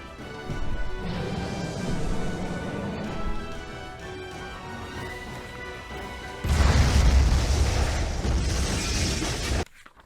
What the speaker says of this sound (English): The huge explosion from the impact drowned out everything else in the attic.